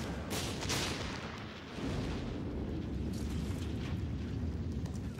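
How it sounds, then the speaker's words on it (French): Artillery fire rumbles through a war film battle scene at Stalingrad, a dense continuous low roar of distant booms and blasts with no clear separate hits, steady and fairly loud throughout. "Quand notre artillerie s'en mêle, les Russes ferment leur gueule"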